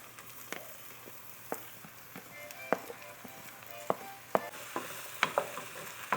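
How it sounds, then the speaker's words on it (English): Potatoes and jackfruit in avocado oil sizzle softly in a pan, with irregular clinks and scrapes of a utensil stirring them close by. "Next, I'm gonna add in my potatoes. After a few minutes, I'm gonna add in my jackfruit."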